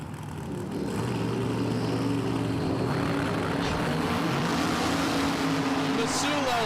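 A supercharged drag racing car engine with zoomie headers idles with a loud, steady, rumbling drone at a dragway, with an announcer talking over it.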